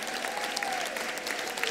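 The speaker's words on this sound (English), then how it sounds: "give yourselves a huge cheer" A graduation ceremony crowd bursts into sustained applause and cheering, a dense wash of clapping filling the hall, with a few whistles rising above it.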